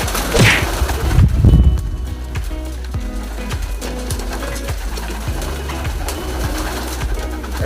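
Racing pigeons of the Gordon breed coo in a loft, a soft burst of low cooing early on, then fainter calls beneath steady background noise, with no talking.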